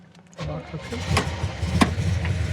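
A 1969 Chevrolet Chevelle SS convertible with its 454 V8, upgraded from a 396, cranks briefly and catches, then settles into a loud, close, rumbling idle.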